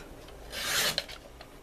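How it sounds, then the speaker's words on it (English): A scrap piece of paper being cut, giving one short rasping, scraping stroke with a small snip near the end, close and quiet, with no talking. "I'm going to take a scrap piece of paper and cut this down to"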